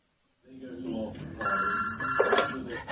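An old-style telephone bell rings in a quiet room within an audiobook scene, a sustained metallic trill that starts after a moment of silence and carries on steadily.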